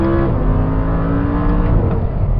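A 2014 Audi R8 V10 with a dual-clutch gearbox downshifting, a loud close droning engine heard from inside, its pitch stepping smoothly as gears change.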